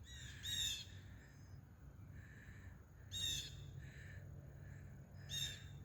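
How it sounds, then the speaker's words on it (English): Cardinals calling outdoors along a walking route: three separate bursts of harsh, squawking chirps, each a second or less, fairly faint over a low, steady outdoor background. "I don't see the birds, but I hear them."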